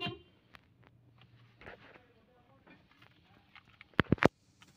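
A Toyota Agya horn, just repaired, gives a few short, loud honks in quick succession near the end, after quiet workshop handling noises and faint talk.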